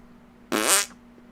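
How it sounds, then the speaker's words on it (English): A single fart, short and raspy, lasts about half a second and is loud and close against a quiet background with no talk. "I farted."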